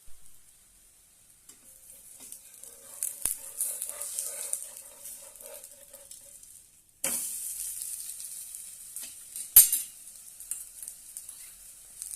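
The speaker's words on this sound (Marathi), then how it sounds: "दोन्ही बाजूने छानपैकी पोळी भाजून घेऊया" Besan poli, a gram-flour flatbread, sizzles in a little oil on a pan, a soft steady crackle with brief louder bursts of frying and a couple of sharp clatters partway through.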